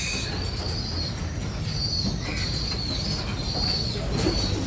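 Pigeons in a loft colony after feeding coo softly and flap their wings now and then amid a steady low background rumble.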